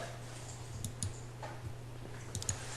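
Sparse mouse clicks at a computer running CNC machining simulation software, a few soft separate taps over a steady electrical hum, fairly quiet and close.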